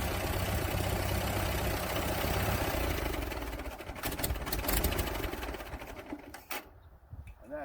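A custom 1947 tractor engine runs with a steady, rapid mechanical chatter close up, then the sound breaks into uneven bursts and drops away near the end.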